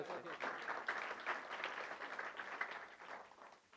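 Sustained audience applause at a Marathi stage event, a continuous crackling wash of many hands clapping at moderate volume throughout, with no one speaking over it.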